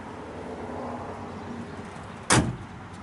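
Quiet outdoor ambience, then a single solid thunk as the door of a 1970 Pontiac LeMans GTO convertible is shut close by, followed by a brief fading rattle.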